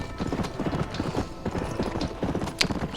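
Horses gallop in Red Dead Redemption, a dense run of rapid hoofbeats clattering close and loud, with a brief sharp accent near the end and no voices.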